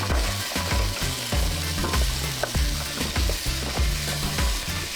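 Chopped celery and other vegetables fry in fat in a pot, sizzling and crackling steadily nearby, with soft stirring scrapes through the pan noise.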